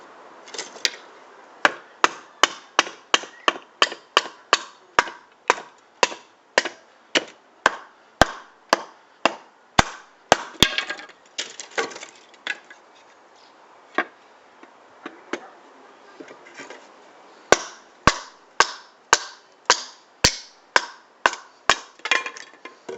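A TOPS B.O.B. knife is batoned through wood, a long series of sharp rhythmic knocks, close and loud, with a short pause midway before the strikes resume.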